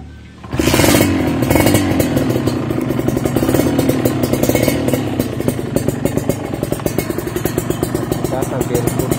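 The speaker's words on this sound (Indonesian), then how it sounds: "Hidupkan motornya." A motorcycle engine starts and runs steadily at close range for about nine seconds, a rapid rattling clatter from the chain and sprocket riding over the loud running engine.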